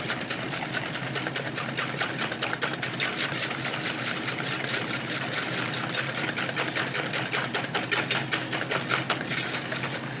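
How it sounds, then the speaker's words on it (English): Three eggs and a cup and a half of sugar beaten by hand with a whisk, a fast, steady stream of dense rhythmic clicks and taps against the bowl, close and continuous with no talking. "So 3 eggs, a cup and a half of sugar, and we're going to mix."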